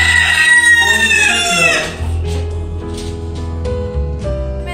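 A rooster crows loudly and close during semen collection, one long strained cock-a-doodle-doo, followed by several short clucks and scratchy handling noises.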